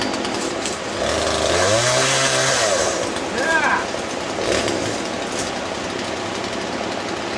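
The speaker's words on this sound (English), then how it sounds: "Steve got his brand new chainsaw." A brand new pull-start chainsaw runs loud and close outdoors, its revs rising and falling in uneven bursts, with people talking over it.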